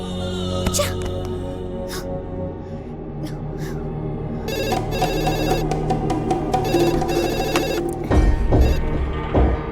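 A landline telephone rings repeatedly in bursts near at hand, in a dubbed South Indian romantic action film, with steady background music and effects underneath and a louder thud near the end.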